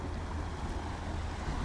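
Sea waves wash onto Uran beach at high tide, a faint, steady, unbroken surge mixed with wind buffeting the microphone.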